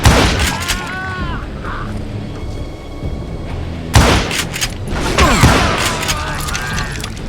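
Gunfire in the Western shooter Call of Juarez: Gunslinger, with loud, close shots and booming impacts, a burst near the start and another heavy volley midway, mixed with mechanical clatter and game sound effects.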